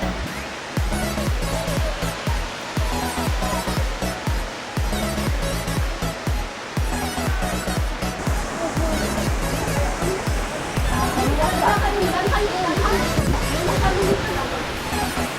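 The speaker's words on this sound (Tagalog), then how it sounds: "bubungad sa iyo ang matikas at napakataas na talon ng bumutok" A constant roar of Bomod-ok Falls in Sagada, a very tall waterfall, fills the scene, broad and loud, with people talking over it throughout.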